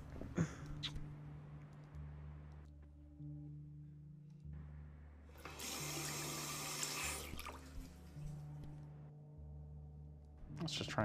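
A tap runs in the bathroom of the game Twelve Minutes, a faint rushing water burst in the middle amid quiet ambient tones and low hum.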